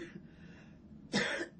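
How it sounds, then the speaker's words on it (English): One sharp, breathy cough from a patient near the end, after a moment of soft, quiet room noise in a nursing airway-care demonstration. "And then instruct her to cough."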